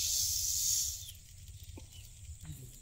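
Mung dal dry-frying in a pan for a quick breakfast before school, giving a steady close hiss that is loud at first and then eases into a softer sizzle with small scraping ticks.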